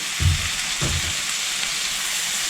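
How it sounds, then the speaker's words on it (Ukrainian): Peppers and tomatoes fry in a pan for a vegetable soup-sauce, a continuous close sizzle with a couple of low thuds near the start as the pan is stirred. "Перчик злегка обсмажився, дав аромат. Додаємо тепер помідорки"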